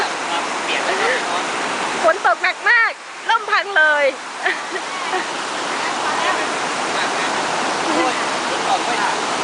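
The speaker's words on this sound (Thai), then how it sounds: "น้ำตกคุ้มน้ำเมืองนี่นะครับ เป็นน้ำตกเอ่อที่เกิดไหลมาจากตัวโน้น" Waterfall at Thung Na Mueang in Khong Chiam, Ubon, a steady loud rushing roar of water throughout, with people briefly talking and laughing near the start.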